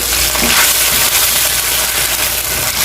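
An egg goes into a hot oiled pan and sizzles loudly and steadily, a dense, close crackle that fills the whole short stretch without pause.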